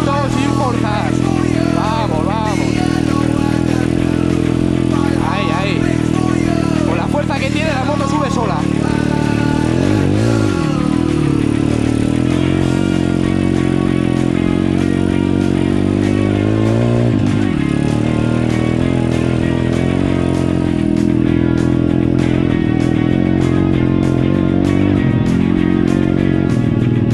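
A 140 cc motorcycle engine revs and labors unevenly as it rides over rough, muddy off-road ground, with people talking and shouting over it.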